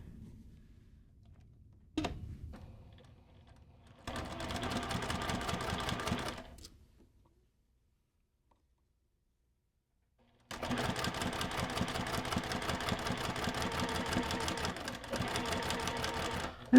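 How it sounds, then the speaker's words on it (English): A sewing machine stitching quilt fabric for a twin star block, two runs of fast steady mechanical whirring with a quiet pause between, close and clear. "I'm just going to turn mine over, line up these edges here, and pop my pin back in and sew"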